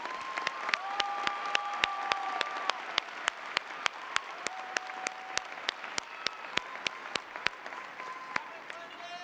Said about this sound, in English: So please join me in giving them a round of applause today for making this all happen.